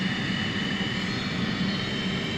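Engine of an F/A-18C fighter jet in a flight simulator cold start, a steady close roar with a high whine held level throughout, no voices over it.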